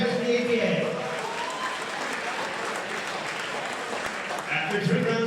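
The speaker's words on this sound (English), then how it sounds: "Ladies and gentlemen, a round of applause for those two fighters." Crowd applause for two fighters after a three-round bout at an ABA combat sports event, a steady wash of clapping lasting throughout, with a slight swell near the end and indistinct voices underneath.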